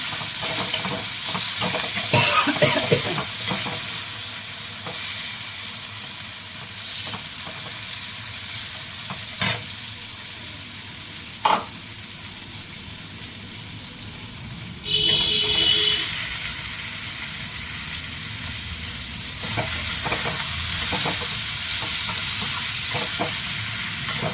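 Potatoes fry in a pan with a continuous loud sizzle, broken by scraping stirring strokes and occasional clatters, with brief bursts of stronger hissing.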